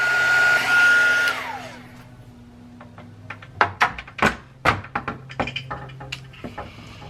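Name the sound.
heat tool heat-setting craft work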